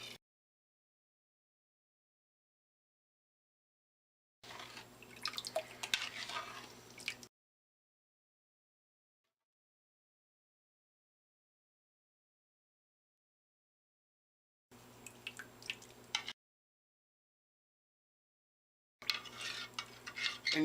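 A spoon stirs salt and sugar into a gallon of brine water, giving scraping, swishing bursts against the container in three separate spells with silence between them.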